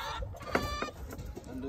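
Chickens cluck softly nearby in a mobile coop amid a busy, noisy background, a few short clucks scattered over a brief moment.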